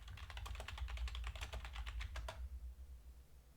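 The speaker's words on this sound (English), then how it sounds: "so let's just type that in." Rapid typing on a computer keyboard, a quick run of close, crisp key clicks lasting about two seconds before stopping abruptly into quiet.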